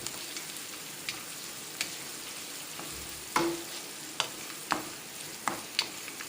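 A spatula scrapes and clacks against a pan while mixing masala poha with fried peanuts, several sharp knocks spaced irregularly over a soft continuous sizzle.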